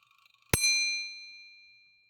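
A vintage mechanical kitchen timer from a collection strikes a single sharp bell chime after faint ticking, the bright metallic ring decaying slowly over about a second and a half, heard alone.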